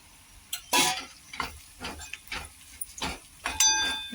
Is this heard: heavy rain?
no